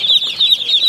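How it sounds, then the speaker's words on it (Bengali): Young chickens at a poultry farm keep up a brief, continuous burst of high chirping and wing flapping, moderately loud, with no voices. "ঘুরে ঘুরে দেখানোর চেষ্টা করতেছি মুরগির খামার"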